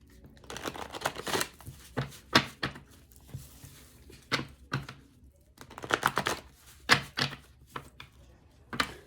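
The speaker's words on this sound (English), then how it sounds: "These I didn't shuffle at all from the last reading, so I just want to make sure that they are shuffled." Tarot cards being shuffled by hand, giving bursts of riffling and slapping card sounds in irregular clusters, close and fairly quiet, with no talking.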